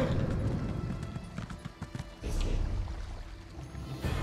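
Horse hooves clopping at a steady gait while riding in the video game Elder Scrolls Online, moderately loud and rhythmic, mixed with a low rushing background.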